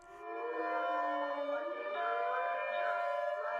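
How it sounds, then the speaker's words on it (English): A loud, wailing outdoor warning siren tested indoors, with several rising and falling tones sounding together, steady and sustained, with no voices. "This indoor test shows how the towers communicate with each other to trigger their sirens simultaneously"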